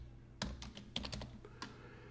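A handful of distinct keystrokes tap on a computer keyboard in a quiet room, about six clicks spaced irregularly, fairly faint and close.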